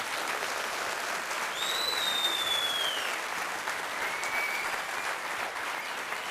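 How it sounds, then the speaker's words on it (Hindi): Audience at a motivational event applauds steadily, a dense, even wash of clapping lasting several seconds, with a faint whistle rising above it. "जोरदार ताली बजा दीजिए उसके लिए।"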